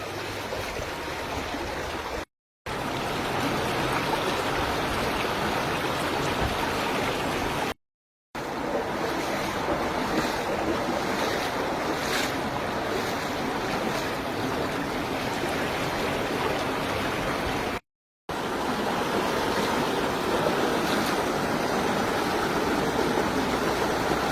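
Flood water rushes through a town in Taunsa Sharif, Pakistan: a loud, steady, broadband roar of flowing water that continues without pause apart from a few short gaps of silence.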